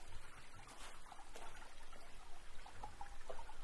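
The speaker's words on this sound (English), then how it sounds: "it's been cold enough that even icicles have formed along this little waterfall." A small waterfall trickling and splashing among icicles in freezing weather, a steady close watery babble with small drips and plinks, fairly quiet and alone.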